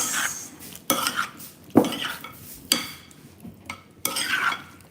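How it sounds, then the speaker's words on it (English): Utensils clink and scrape against a bowl while a delicate tomato and cucumber salad is tossed, several sharp clatters at irregular intervals over a soft continuous stir, close and moderately loud with no voices. "So I'm just mixing it around."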